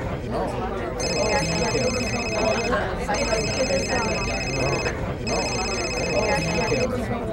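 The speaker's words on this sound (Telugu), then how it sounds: "నా వైఫ్ కాల్ చేస్తుంది" A telephone rings with an incoming call, three repeated bursts of electronic ringing with short gaps, over ongoing background chatter and noise.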